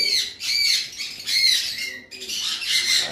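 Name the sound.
green Fischer's lovebirds squawking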